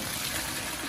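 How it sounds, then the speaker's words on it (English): Water from boiled pigtails pours off through a strainer in a steady, close rushing gush that fills the whole short moment, with no talking. "I'm gonna strain the water off."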